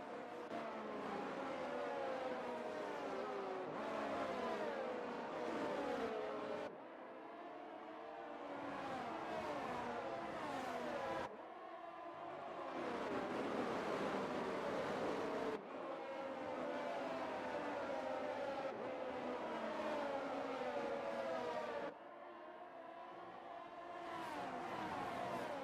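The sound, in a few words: F1 23 video game race cars driving under virtual safety car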